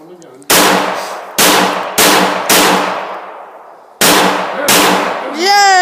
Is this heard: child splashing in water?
no